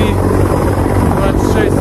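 A Mi-26T heavy helicopter in flight carrying another Mi-26 as an external sling load, its loud continuous rotor and turbine roar filling the short stretch, close and dominant.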